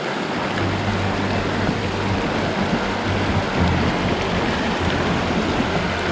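Fast, fairly deep river water rushes during a trek water crossing near Dudipatsar lake in Pakistan, a loud, close, continuous churning roar with a steady low rumble and no voices.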